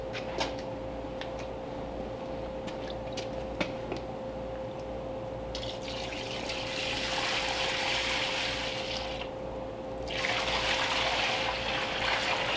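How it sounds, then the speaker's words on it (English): Sludgy old engine liquid from a 1934 Ford hot rod engine poured into a drain pan, a close, steady gushing and trickling that swells louder partway through, over a constant hum, with no talking. "let's see if I can dump this out into my drain pan without soaking myself or everything around me"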